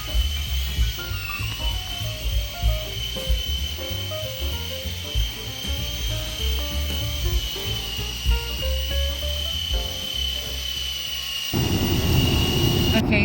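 A toy helicopter whirs with a steady, high-pitched motor whine that runs unbroken through the whole stretch, layered over busy background tones and ending in a louder rush of noise.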